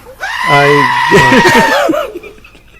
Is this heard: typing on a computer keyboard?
no